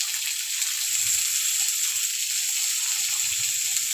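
Chopped tomatoes land in a hot pan with grated ginger and sizzle steadily, a bright continuous frying hiss with faint stirring scrapes underneath.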